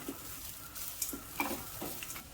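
One cup of freshly grated coconut fries over a low flame, making a soft, quiet sizzle broken by gentle scraping stirs and light clicks of a spoon against the pan, heard close with no voices.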